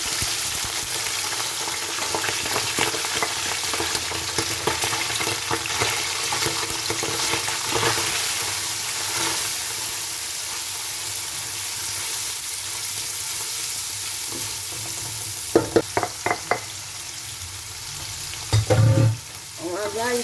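Vegetables for a pasta dish fry in a hot pan, a loud continuous sizzle running throughout with repeated scraping stirs and a few sharp utensil knocks near the end.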